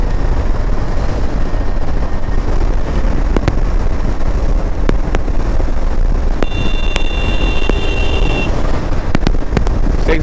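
A KTM 250 Adventure motorcycle cruises in fifth gear, a steady loud engine drone buried under heavy wind rush against the microphone, with a few sharp ticks and a brief high whine partway through.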